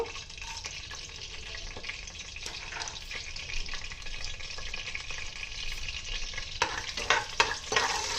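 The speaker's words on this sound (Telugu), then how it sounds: "ఆయిల్ వేడెక్కిందండి. దీనిలోనే డ్రై మసాలాస్ వేసేస్తున్నాను." Dry whole spices for a malai egg biryani fry in hot oil, giving off a continuous dense sizzle. Stirring scrapes and crackles get louder toward the end, and no voice is heard over them.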